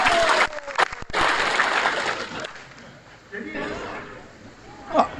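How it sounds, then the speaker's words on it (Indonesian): Sparse applause from a small audience at an Islamic sermon gathering crackles briefly near the start, then thins out beneath a man's continuing speech. "yang tepuk tangan cuma 10 orang"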